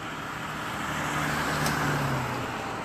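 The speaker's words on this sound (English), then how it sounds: "So you might hear cars going by" Steady roadway noise from cars passing on a busy street, a continuous near rumble and hiss with no speech.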